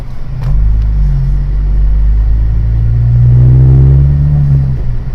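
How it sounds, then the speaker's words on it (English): A 2020 Honda Civic Si driving and downshifting, heard from the cabin as a loud low engine drone that swells and rises in pitch partway through, then settles, with no talk over it. "I'm just downshifting a little bit here."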